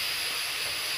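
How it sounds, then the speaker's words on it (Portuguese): A pressure cooker cooking chicken breast releases a steady, loud high hiss of escaping steam, continuous and close, with no voices. "eu tô usando a pressão ali, a panela ali, pra cozinhar o peito do frango"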